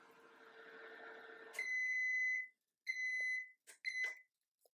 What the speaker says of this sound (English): So I can turn off the beeper by pressing the same button that I pressed to start it.